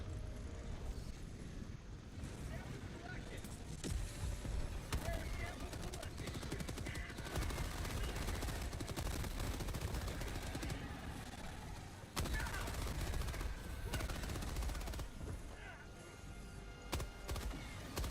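Helldivers 2 combat with dense, continuous automatic weapon fire and explosions across the whole stretch, loud and busy with scattered game sounds mixed in.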